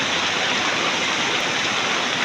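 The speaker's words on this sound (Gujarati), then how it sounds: "સાવરકુંડલામાં વરસાદ ધોમ ધોકાર પાણી કાઢી દે ખેતરવાળા 10 મિનિટમાં ફળિયાવાળા પાણી કાઢી નાખ્યા." Heavy monsoon rain pours with rushing floodwater in Savarkundla, a dense, loud and unbroken roar that stays at constant strength throughout.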